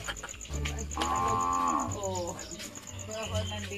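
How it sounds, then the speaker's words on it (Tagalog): A cow in Pangasinan gives a long, drawn-out moo that rises and holds, then tails off into a lower second call, heard at moderate distance with no talking over it. "Ah, may baka dyan?"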